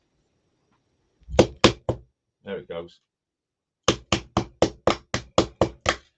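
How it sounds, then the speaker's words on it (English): A small hammer taps a part into a platform clock: three sharp knocks, a short stretch of talk, then a steady run of eight evenly spaced close taps. "it's just my small hammer"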